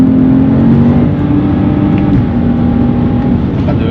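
A stage 3 tuned BMW 135i pulls hard under acceleration, its engine droning loud and steady from inside the cabin, the pitch holding and slowly shifting as it drives on.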